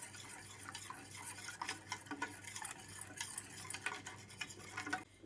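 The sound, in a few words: stirring cornstarch mixture into hot chocolate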